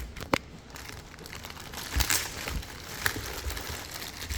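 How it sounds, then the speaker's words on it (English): Tape on the packaging of a Dahua PTZ camera is cut and pulled open, giving close crinkling and crackling with a few sharp snaps and tears. "Even the tape, I'll just cut it out."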